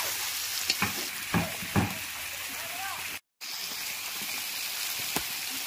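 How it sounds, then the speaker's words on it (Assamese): Fresh local chicken frying in oil in a traditional Assamese kitchen, giving a steady close sizzle with occasional stirring knocks and one brief dropout. "ফ্ৰেছ লোকেল চিকেন টেষ্ট লাগি থকা তেলৰ লগত ভাজি কৰিছে"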